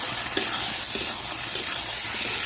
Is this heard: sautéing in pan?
yes